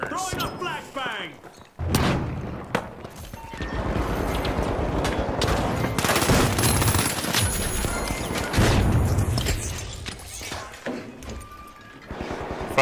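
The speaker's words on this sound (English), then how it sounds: "Throwing a flashbang." A flashbang grenade goes off in the video game The Finals amid a busy firefight, sharp bangs and thuds with bursts of gunfire, and players talk over the noise.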